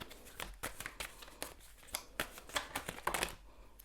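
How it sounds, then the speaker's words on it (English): Tarot cards are shuffled by hand in quick riffling bursts, a rapid series of crisp papery flicks and slaps, close and clear with no talking. "I'm gonna shuffle a little bit more"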